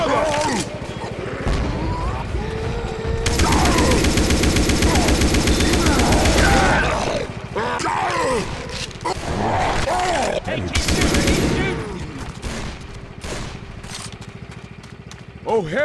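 Rapid automatic gunfire cutting down zombies in Left 4 Dead 2 on the Energy Crisis custom campaign map, loud sustained bursts with pauses between, under excited voices calling out.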